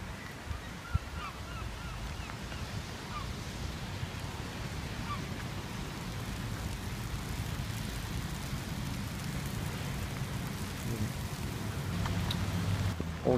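Torrential, heavy rain pours steadily in a misty outdoor setting near a bridge, a dense broadband wash that grows slightly louder toward the end, with occasional faint goose-like honks in the distance.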